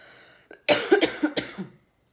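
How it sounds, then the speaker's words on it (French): A person coughs in a quick burst of several harsh, close coughs, preceded by a small throat sound, then silence. "je sais pas pourquoi je tousse d'un coup"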